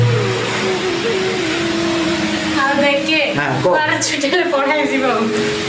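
Heavy road traffic with many vehicles driving past gives a continuous engine roar and whoosh, while a person talks excitedly over it toward the end.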